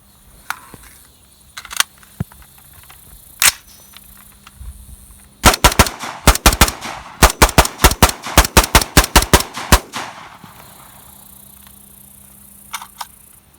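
A rifle fitted with a blank firing adapter shoots blanks from a 20-round magazine: a few single loud shots, then a fast string of about twenty sharp reports close by, and a couple of shots near the end.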